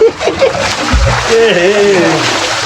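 Water splashes and sloshes as children bathe in a large wok, with voices and laughter chattering over the continuous splashing.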